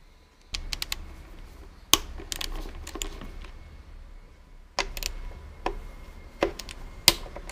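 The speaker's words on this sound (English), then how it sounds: "Using 10 mm socket with ratchet and extension, remove two bolts securing front wiring harness holder." Sharp metallic clicks and short ratcheting bursts from a 10 mm socket ratchet with extension loosening bolts on a Honda Civic 1.8 i-VTEC engine, coming in scattered clusters with quiet pauses between, close and moderately loud.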